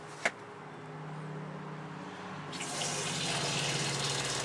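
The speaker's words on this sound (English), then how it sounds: "A new pump is really quiet." A newly installed camper water pump hums quietly as water runs from the faucet, a steady near flow that grows noticeably louder partway through after a brief tap at the start.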